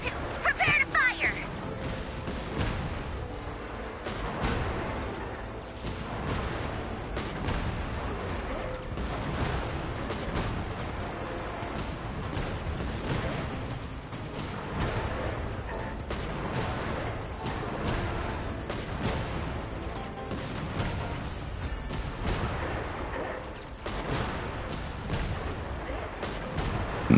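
Artillery fires again and again in a video game, heavy booms packed into a dense, continuous wall of battle noise that runs loud and steady throughout, with a voice talking underneath.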